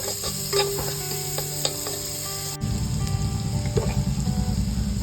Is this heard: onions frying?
yes